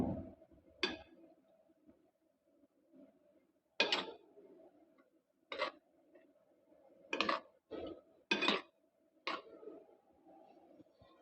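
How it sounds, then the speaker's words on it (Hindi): Spoon mixing a kaleji (goat liver) marinade in a bowl for seekh kaleji kebabs, giving sharp intermittent clinks and scrapes in an irregular rhythm over a low steady hum. "चम्मच की मदद से या हाथों की मदद से आप मिक्स कर सकते हैं।"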